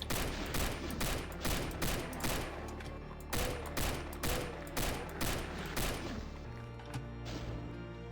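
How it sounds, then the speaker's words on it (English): Rapid, loud bursts of battle rifle gunfire in the video game Doom, a dense fusillade of repeated sharp shots with brief gaps, close and punchy over a low game hum. "I don't usually get to play with a battle rifle in Doom."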